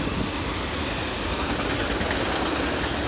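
A southbound Conrail double-stack freight train on the Clearfield subdivision passing along State Street, a loud, steady rumbling roar with hiss, close by and unbroken.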